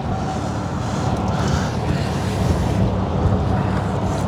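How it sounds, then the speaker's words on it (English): Strong wind buffets the microphone outdoors at an EV DC fast charging station, a loud, continuous roaring rumble with gusts rising and falling throughout, no talking. "It is so windy. If that's getting into the microphone, my apologies."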